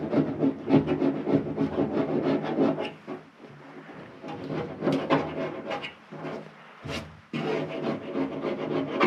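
Old paint is scraped off a metal part with a hand tool in repeated rough rasping strokes, close and fairly loud, with brief pauses between bursts.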